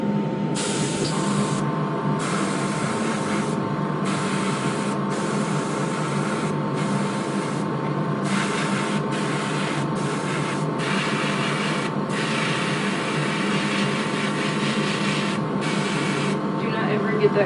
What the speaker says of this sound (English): when your airbrush is working fine, you will have paint everywhere